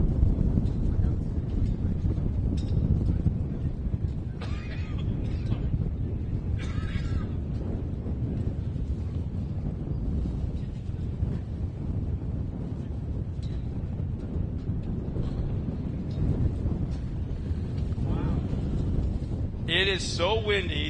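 Constant low rumbling wind blows into the microphone in a tower above an off-road race track in Chandler, Arizona, for the whole stretch, with faint voices and scattered higher sounds buried beneath.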